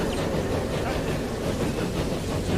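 A train in the Transport Fever video game, running on a UK Midland Mainline northbound route, produces a steady, loud rumbling clatter that continues without a break.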